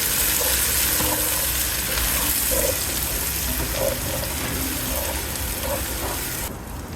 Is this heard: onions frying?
yes